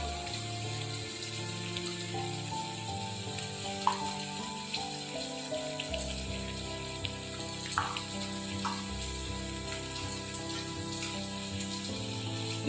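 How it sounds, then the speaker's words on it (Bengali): Cumin and turmeric paste hitting hot oil in a pan: a steady close sizzle and bubbling hiss throughout, with a low hum underneath and a few faint clinks, no voices. "গুলে নিয়ে দিলাম দেখুন জিরের গুঁড়ো এক চামচ আর হাফ চামচ দেবো হলুদ"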